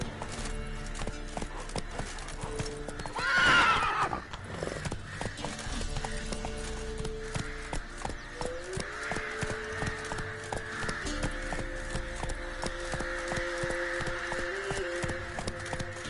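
Roach, the horse in the video game Witcher 3, gallops with steady rhythmic clip-clop hoofbeats, close and continuous, and a brief whinny rises early on.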